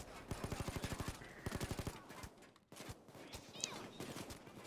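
Bursts of rapid automatic gunfire from active gun emplacements in a video game, two quick rattling volleys early on, then sparser shots after a brief lull, fairly faint and distant.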